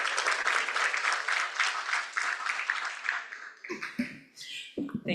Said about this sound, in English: who also deserve a round of applause themselves